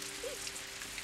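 Steady rain falls outside a small shop in Kobe as a soft, even hiss with no gaps, faint and continuous throughout.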